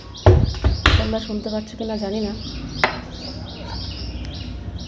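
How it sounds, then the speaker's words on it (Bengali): Birds chirp and call in the morning, a few bright warbling phrases and tweets near at hand over soft background noise, with someone talking at the start. "সকালবেলা এই পাখির ডাকগুলো এত ভালো লাগে না, কি বলবো।"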